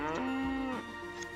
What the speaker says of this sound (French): Là j'ai une vache qu'on peut nourrir